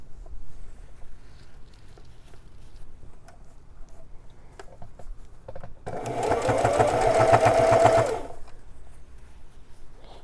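Sewing machine hemming a pair of denim jeans runs in a loud, steady burst of rapid stitching for about two seconds midway, with quieter handling noise before and after.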